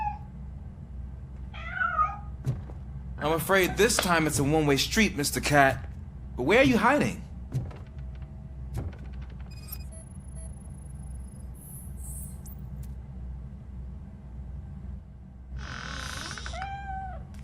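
A cat meows several times in RoboCop: Rogue City, a short plaintive call followed by louder, drawn-out wails, mixed with character dialogue and a sparse ambient game soundscape.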